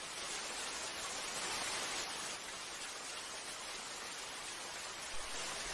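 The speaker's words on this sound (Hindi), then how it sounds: "वो शायद बारिश को सुन रहा है" Steady rain falls, a soft, continuous hiss of drops spread evenly across the whole span, fairly faint and without voices.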